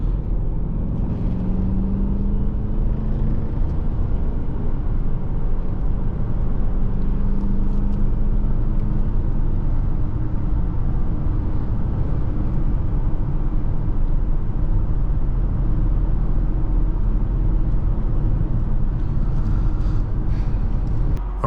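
A 2011 Audi A8 4.2 in sport mode accelerates on a test drive, its engine giving a steady, loud, sustained drone with a rising tone, heard from inside the cabin with no speech.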